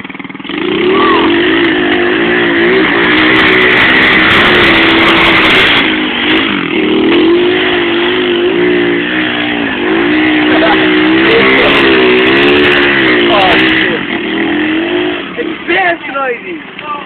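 Pit bike engine outdoors revving hard with a buzzy, raspy tone, rising and falling pitch sustained loud and close for most of the stretch, sputtering near the end, with people talking over it.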